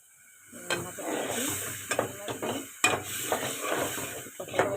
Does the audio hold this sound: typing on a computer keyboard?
no